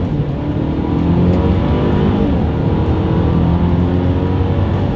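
A 2022 Mercedes-Benz GLC 300 SUV accelerates hard in first gear in manual shift mode, its engine a loud, steady, close drone heard from inside the cabin, with no talk.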